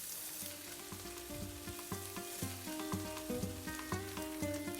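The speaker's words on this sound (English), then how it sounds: "I'm going to add the tortillas to this saute" Torn tortillas sautéing in a pan with scrambled eggs, a soft crackling sizzle under steady repeated tonal clatter, fairly quiet and close, with no speech.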